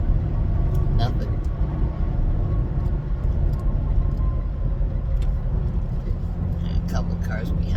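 Road noise from inside a car on a highway ramp with other cars and a pickup nearby, a steady low rumble and hiss that never lets up, with someone talking over it.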